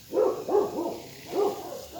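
Several dogs barking in short bursts at a rural smallholding, three or four rounded barks at moderate distance over a quiet background.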